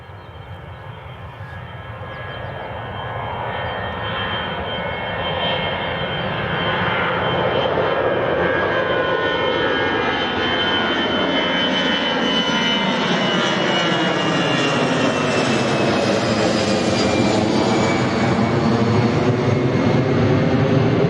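A Loganair airliner takes off at Newcastle International Airport, its engine roar loud and steady throughout, rising and shifting in pitch as it climbs away.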